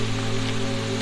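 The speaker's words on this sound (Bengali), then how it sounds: "অনেক দিন পর ঝর্ণাতে," Harinmara waterfall, swollen with rainwater, rushes in a constant loud roar of falling water, close and unbroken, with no voices.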